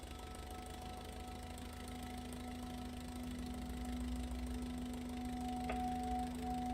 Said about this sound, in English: I love the engine sounds on this thing.